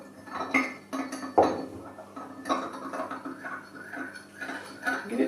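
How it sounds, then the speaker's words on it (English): A spoon stirring honey into a white willow bark decoction in a cup, a run of light metallic clinks and taps against the sides, close and intermittent, with no speech. "Give it a good stirring."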